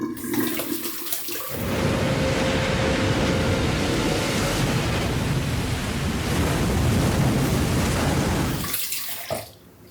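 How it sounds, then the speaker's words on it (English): Water runs steadily from a tap for several seconds as someone rinses off after a wet shave with a safety razor, a loud, close, continuous splashing rush that starts and stops abruptly. "And we're just gonna rinse off now."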